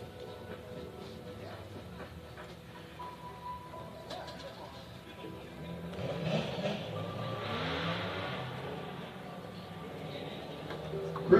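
Drift cars at a grassroots plains event, a blue Nissan 350Z and a Mazda RX-7, rev and accelerate with a steady engine roar at moderate distance that swells midway through, under a faint announcer voice.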